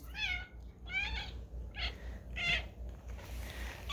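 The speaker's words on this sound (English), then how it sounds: "Why are cats so offensive?" A cat meows four times in a row, short close calls spaced about half a second apart, over a steady low hum with no talking.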